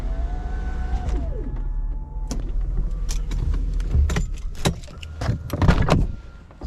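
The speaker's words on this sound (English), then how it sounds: "Windows go up automatically." Power windows on a 1997 Mercedes SL320 40th Anniversary car rise automatically. A motor whine rises then drops away, followed by a scatter of close clicks and thumps as the glass seats.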